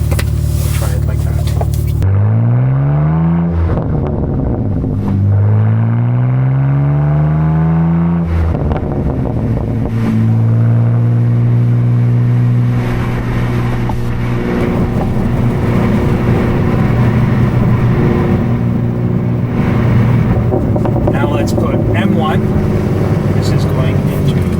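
A BMW G87 M2 fitted with an AWE exhaust on a race track, its engine droning loudly and rising in pitch through the gears, with strong steady exhaust tone from close by.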